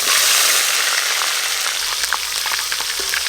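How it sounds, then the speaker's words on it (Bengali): Onion paste hits hot oil seasoned with small cardamom, cloves and cinnamon, giving a loud, dense sizzling hiss that stays strong throughout, dotted with sharp crackles and spits, heard up close without speech. "এবার আমি দেব পেঁয়াজ বাটা,"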